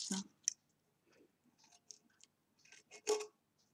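Scissors snip off excess paper while small envelopes are made, sounding as a few quiet, separate cuts and rustles close by.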